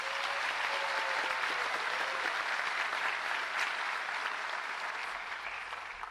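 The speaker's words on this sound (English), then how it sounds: "Let's please give all of our school Teachers of the Years another round of applause." A school district convocation audience applauds its teachers: a continuous wash of many hands clapping, moderately distant and steady, tapering slightly at the end.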